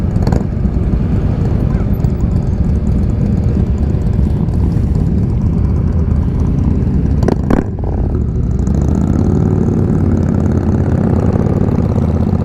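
Heavy, steady rumble of idling motorcycle engines with a low throb throughout, loud and close, with a brief sharp noise partway through.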